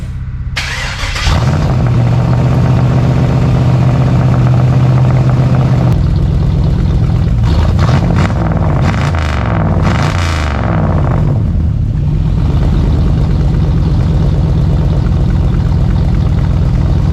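A Chevrolet widebody car engine cranks and fires, then settles into a loud, steady idle with a few rev blips partway through, heard up close and alone.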